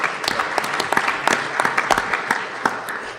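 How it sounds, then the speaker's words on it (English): Conference audience applauding a second prize winner, a short burst of scattered hand claps, fairly close and moderately loud, loose and uneven in rhythm. "Second prize, a round of applause."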